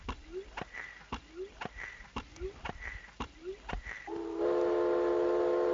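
A steam train in the video game Myst chuffs rhythmically with short whistle hoots between puffs, ending in a sustained, loud train whistle blast.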